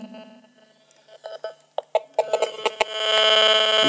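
A mobile phone being switched on during a talk, giving a quiet click followed by a run of short electronic beeps, then a sustained bright startup tone at the end, close and clear.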